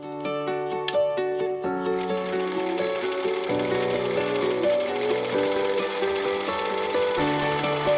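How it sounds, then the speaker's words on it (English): Sewing machine stitching around fabric pieces for a framed ring holder, a steady rapid mechanical whir and clatter running continuously and fairly close, with shifting motor tones and no talk. "I'm going to take this to the sewing machine and I'm going to sew all the way around"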